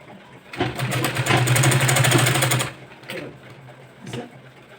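Sewing machine running a stitch on a boat neck blouse, a close steady whirring burst of about two seconds followed by a couple of brief, fainter rattles.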